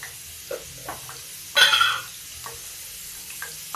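Spices for a moong dal kadhi tempering hit hot oil with a single loud burst of sizzling and crackling lasting under half a second, close by, amid otherwise quiet kitchen clatter.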